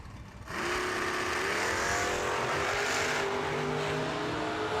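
Drag racing cars, including an 89 Mustang, launching at a bracket race: after a brief quiet moment, loud engines roar up and sustain a rising, revving howl that stays heavy and continuous to the end.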